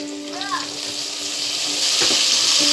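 Onion and garlic sauté in a hot pan for pancit bato with pork and chicken liver, giving a steady, close sizzle that grows louder toward the end, with a short scrape of stirring partway through.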